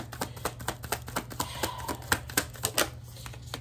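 Tarot cards being drawn from the deck, heard as a steady run of quick, crisp taps and flicks up close, with no talking.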